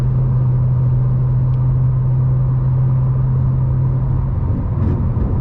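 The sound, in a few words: 2013 BMW M5 cruising on freeway at 70 mph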